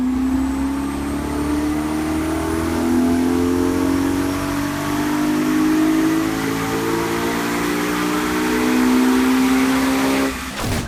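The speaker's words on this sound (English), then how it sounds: "The engine used for the M3 Gtr sounds more like a deep cross-plane crankshaft V8 to me." A BMW M3 GTR V8 engine in the racing game Need for Speed Heat holds a loud, steady drone that rises slowly as the car accelerates, with harmonic engine tones sustained throughout and a sudden drop near the end.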